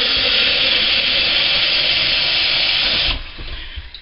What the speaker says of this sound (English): Water, water, water.